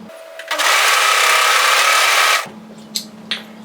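A serger overlocker stitches two fabric edges together, a steady loud whirring burst of about two seconds that starts and stops abruptly, followed by a couple of short faint clicks.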